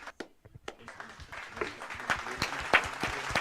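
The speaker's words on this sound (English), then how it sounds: "Let's get a clap out for Kage" Scattered claps for a podcast guest named Kage, a few people clapping unevenly at close range in a small room, with light background chatter.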